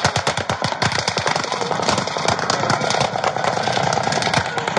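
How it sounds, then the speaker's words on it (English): Rapid bursts of gunfire crackle densely and continuously, overlapping shots echoing with no pause. "How many different gunfire sounds you hear as this guy is crouched down in that"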